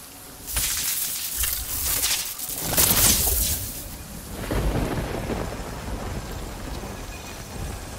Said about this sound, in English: This rain really isn't helping.